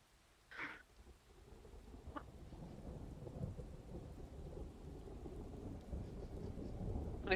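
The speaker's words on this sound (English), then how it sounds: "There's some rain." Steady rain and a low, distant rumble of thunder in a dark, boggy delta setting, with a few brief sharper crackles standing out over the continuous wash of rainfall.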